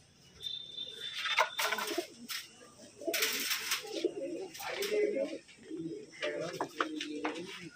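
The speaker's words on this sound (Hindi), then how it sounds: "हमने ये कबूतर दिए भाई" Soft, low pigeon coos repeat in a rolling rhythm close by, with faint chirps and scattered noises from the surroundings.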